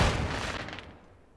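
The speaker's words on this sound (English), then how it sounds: "Throwing flash grenade" A flash grenade goes off in Modern Warfare 2 with a sudden loud burst that rings out and fades away over about a second.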